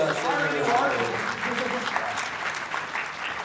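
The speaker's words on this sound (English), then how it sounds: "Clap up for Alex, dude." An audience at a New York Comic Con 2024 panel claps steadily for a few seconds, a dense, even wash of applause with voices mixed in.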